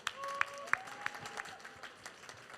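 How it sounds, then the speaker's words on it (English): Audience at an eco-entrepreneurs' startup competition welcoming a judge with a brief round of applause: several sharp, fairly faint claps spread over a couple of seconds, with a voice lingering underneath at the start. "Please join me in welcoming our first judge, Mr. Brian Kim from Kim Ventures"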